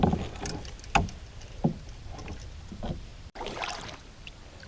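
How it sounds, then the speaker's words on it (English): A canoe is paddled across a calm, glassy wilderness lake in the evening, with soft dips and splashes spaced a second or so apart over quiet ambience, close and gentle, no talking. "I've just been paddling and enjoying the lake."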